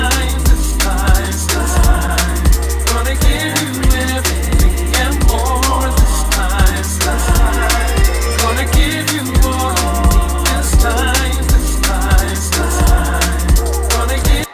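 A track plays: a dense electronic dance beat with a thumping kick on every beat, layered synths and melody, loud and continuous, with no talking over it.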